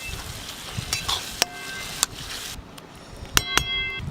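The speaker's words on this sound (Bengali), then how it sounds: "এবার সব কিছু একসঙ্গে খুব ভালো করে মিশিয়ে নেব।" Grated potatoes being mixed by hand with salt and chili powder in a bowl, soft rustling and stirring broken by several sharp clinks of utensils against the vessel, close and without speech.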